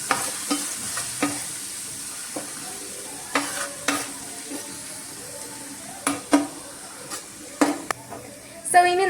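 Chopped garlic and ginger for chicken fried rice are stirred in a hot pan: a faint, constant sizzle under sharp, irregular scrapes and clacks of a spatula, growing busier toward the end.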